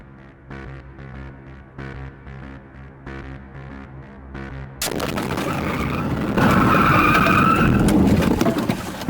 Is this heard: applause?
no